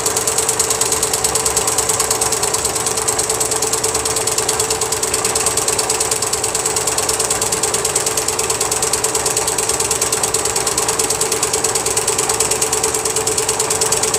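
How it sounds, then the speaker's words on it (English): A home washing machine runs nearby, giving a loud, steady mechanical churn with a fast, even clattering rhythm that continues unbroken throughout. "That was my washing machine."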